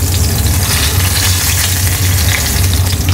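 Zander fillet sizzles steadily in a hot pan as it is turned over, a dense, loud, continuous crackle with no pause.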